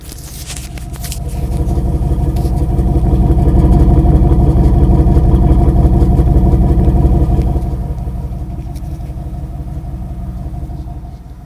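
A 1991 Cadillac Allante's 4.5 liter engine running through its single exhaust, a steady low rumble that swells as the car nears, holds for several seconds, then eases off, with no talk.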